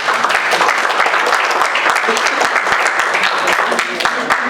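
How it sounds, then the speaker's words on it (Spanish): A workshop audience of teachers applauds after a storytelling session, a dense, steady wash of many hands clapping close and loud throughout, with a few scattered voices mixed in. "Un aplauso."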